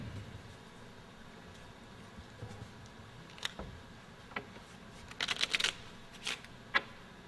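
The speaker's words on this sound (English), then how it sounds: "Would you shuffle the cards up to your heart's content?" Playing cards being shuffled by hand during a close-up magic contest performance, a few brief riffling bursts and soft clicks over a quiet room, near and fairly faint.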